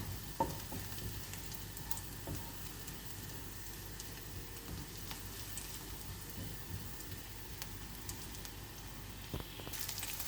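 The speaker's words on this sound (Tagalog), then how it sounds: "Ilalagay ko na ang bawang." Garlic frying in a pan, a steady quiet sizzle throughout with occasional pops and stirring scrapes.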